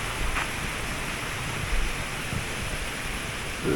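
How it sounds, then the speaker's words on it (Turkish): A babbling stream runs beside a tea field and hazelnut trees in Arhavi, a steady, close rushing wash of water that holds an even level throughout without pause. "Yanımızda şırıl şırıl akan bir dere"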